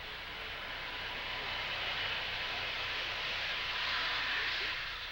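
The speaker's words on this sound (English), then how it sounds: "an Aeroflot Ruslan is seen arriving at Farnborough, England" An Aeroflot Antonov Ruslan cargo airplane arriving at Farnborough, England, gives a steady, broad engine roar that swells slightly, heard at a distance with no talk.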